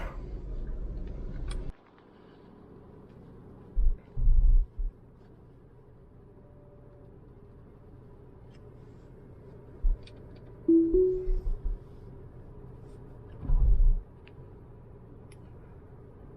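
Steady low road and cabin rumble fills the inside of a car being driven, quiet and even, broken by a few short dull thumps and faint ticks.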